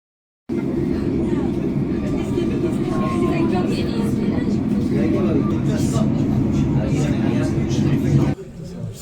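Inside a moving train near the Zugspitze heading to Eibsee, a loud steady low rumble of wheels on track continues throughout, with faint rattles and voices underneath, then quickly drops off.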